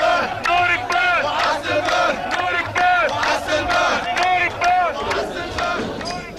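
A large crowd at an Egyptian festival shouts and chants in loud rhythmic bursts, many voices surging together in repeated waves, close and boisterous.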